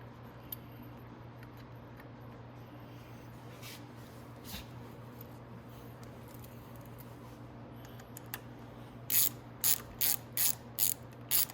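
Ratchet wrench tightening cylinder head bolts on a 250cc engine, first as scattered soft clicks over a low hum, then a run of six quick rhythmic ratcheting bursts close by.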